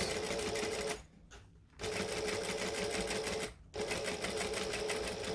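A sewing machine back stitching the binding on a sling bag: a close, steady mechanical whir that stops briefly twice and then runs on again.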